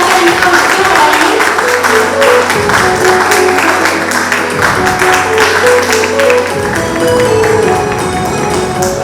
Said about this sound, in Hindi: आप सभी जोरदार से तालियां बजाकर इनको उत्साह बढ़ाइए।